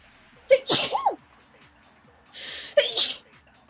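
Two loud, close sneezes, each with a sharp intake of breath, spaced about two seconds apart with quiet between them.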